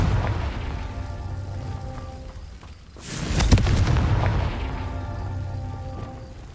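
A Confringo spell blast in Hogwarts Legacy booms as one loud, close explosion with a sharp crack midway, swelling then fading into rumbling game ambience.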